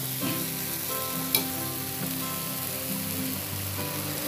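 Oil sizzles steadily on a ragi (finger millet) dosa cooking in a pan, a close, continuous frying hiss throughout with one brief sharp crackle partway through, no voices.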